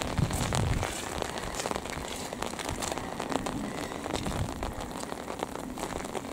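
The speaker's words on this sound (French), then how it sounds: "Il pleut." Steady rain patters and hisses on a surface throughout, a dense continuous wash of drops with no voices.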